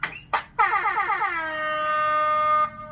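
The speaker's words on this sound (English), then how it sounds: "And then the DJ horn." A Coqui Siren2 siren unit, triggered by remote control, fires its DJ air horn effect: a couple of quick blasts, then a repeated warbling horn that settles into a long sustained tone, loud and close.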